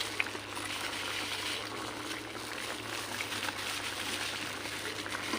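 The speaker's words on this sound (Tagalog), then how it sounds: "kumukulo na siya" A pot of coconut milk fish stew bubbles and boils steadily with a continuous, even rush of liquid noise throughout, no voices present.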